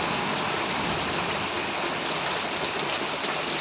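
Steady rain pours down outside a home, a dense continuous hiss of drops close by and fairly loud throughout, with no voices.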